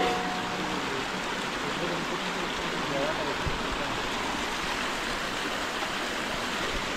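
Village waterfall stream running over rocks at reduced flow after several dry days, a dense, steady broadband rush of water close by that masks everything else, unchanging throughout.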